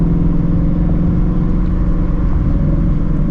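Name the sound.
Ford Shelby GT350 engine and exhaust revving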